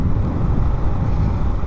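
Strong wind at Bagasbas Beach buffets the microphone in a steady, loud low roar with no letup, blending with a rushing surf-like wash.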